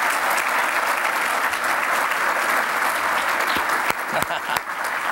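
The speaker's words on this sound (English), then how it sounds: "Give them a round of applause," Steady crowd applause for students at a New Orleans State of the City address, a full hall clapping continuously with a few sharper claps and crowd noise toward the end.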